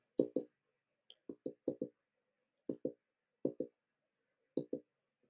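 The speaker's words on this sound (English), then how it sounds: "Keep clicking Shift plus Enter." Keyboard keys clicked in quick pairs and small bursts, Shift plus Enter pressed repeatedly while running code blocks in a web browser; crisp, close clicks separated by short pauses, with no talking.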